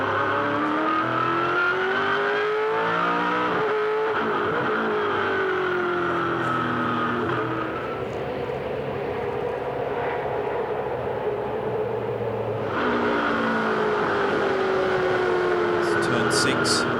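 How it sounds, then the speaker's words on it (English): A 2005 Supercars Ford race car accelerates around the Shanghai International circuit, a loud onboard engine note climbing through gears with pitch sweeps and shifts, under continuous commentary. "a little bit quicker here through 8, 120 kilometres an hour, accelerating now up to 210 kilometres per hour"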